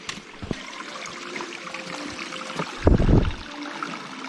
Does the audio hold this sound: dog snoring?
no